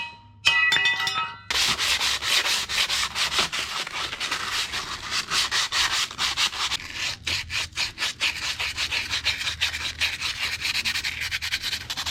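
Hand sanding of metal machine parts from a cheap auction machine, after a brief opening clatter, steady rhythmic rubbing strokes repeat close and fairly loud, with short pauses, no talking.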